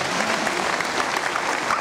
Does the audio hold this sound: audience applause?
yes